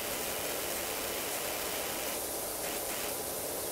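A power washer sprays steadily in the video game Powerwash Simulator, making a continuous broadband hiss that holds at an even, loud level with small shifts in tone throughout.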